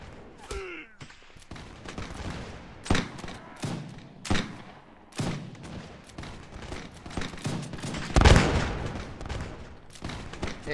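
Volleys of musket fire from French soldiers in a Napoleonic-era battle in Mount&Blade, a dozen or so sharp cracks and booms at irregular intervals, some near and loud, others distant, with brief talk between shots.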